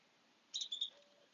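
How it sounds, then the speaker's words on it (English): A bird in a Phoenix back garden gives a quick pair of high chirps followed by a faint, thin tone, heard alone against a quiet background. "There are lovebirds, there are mockingbirds, there are pigeons, there are doves, there's the occasional hawk"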